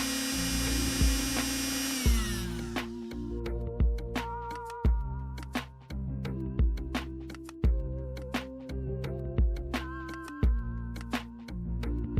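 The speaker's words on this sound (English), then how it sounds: "I'm using one of my favorite tools I've printed with my 3D printer, this handy dandy sanding device" A small 3D-printed sanding tool runs against painted model terrain, giving a steady whirring buzz with rhythmic grinding pulses repeating every second or so, close up and fairly quiet.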